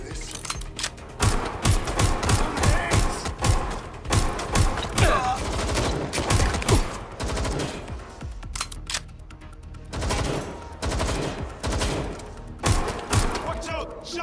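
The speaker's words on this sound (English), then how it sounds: "Watch out! Shots fired!" Rapid bursts of gunfire in Watch Dogs Legion crackle in clustered volleys with short pauses between them, loud and close, with game dialogue mixed in.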